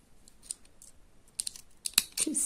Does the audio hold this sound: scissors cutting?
yes